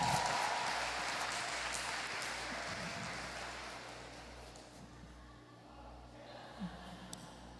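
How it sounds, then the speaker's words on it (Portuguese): A church audience claps for a preacher. The applause is broad and steady at first, then fades out over several seconds, leaving a low hum. "Uma salva de palmas para esse maravilhoso."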